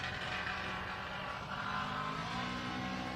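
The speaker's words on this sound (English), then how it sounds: "there does seem to be something rattling on that car. Yeah, sounds a little rough" A drag race car running rough with a rattle gives a dense, steady engine roar that stays loud and constant throughout, with no talk over it.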